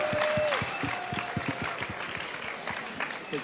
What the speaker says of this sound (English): Also, a big round of applause for the judges.